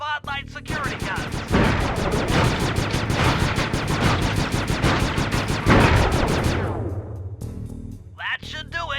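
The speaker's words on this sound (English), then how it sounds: "I'm overriding the spotlight security guns." Spotlight security guns firing in the Sly 2 video game, a long rapid stream of loud machine-gun shots lasting several seconds before cutting off, with a voice speaking briefly before and after.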